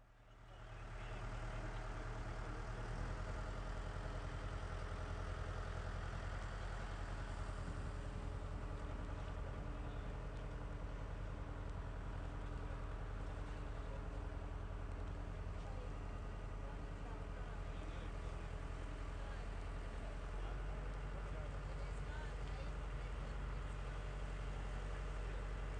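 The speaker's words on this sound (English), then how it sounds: "they're really cranking up the engine now" A harbour ferry engine on the crossing to Balboa Island, Newport Beach, runs with a low, steady rumbling drone that barely changes, with faint voices in the background.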